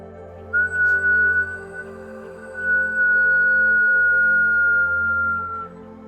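A steady, breathy whistle-like wind tone holds a single pitch, pauses briefly, then sustains again for several seconds over a low background hum.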